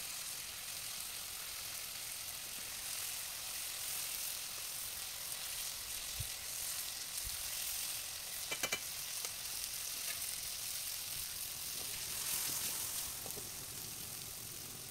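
Pangas fish frying in an oily pan hiss with a steady sizzle throughout, with a few faint clinks of stirring, fairly close and with no talk.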